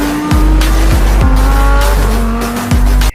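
Racing car tire squeal from a Lamborghini, loud repeated engine revs and skidding screeches close by, several sharp rising and falling bursts in quick succession.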